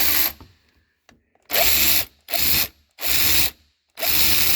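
A Hercules 12-volt cordless tool from Harbor Freight in poor condition runs in four short bursts of roughly half a second to a second each, a harsh, rough ratcheting whir, close and loud, with brief silences between.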